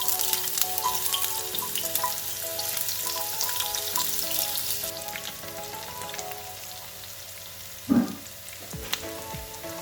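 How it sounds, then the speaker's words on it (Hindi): Chopped onion frying lightly in a pan, a steady close sizzle and crackle throughout with a brief stir or clatter near the end. "प्याज मेरी हल्की सी फ्राई हो गई है"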